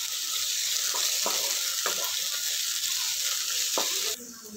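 Ginger and garlic paste frying in a pan gives a steady, close hiss and sizzle, with a few soft scraping stirs at intervals and the sizzle dipping slightly near the end.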